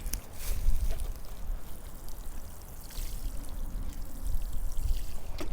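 Water pours from a watering can onto a freshly sown carrot seed drill in a no-dig garden bed, a continuous splashing patter with gentle swells and no talking.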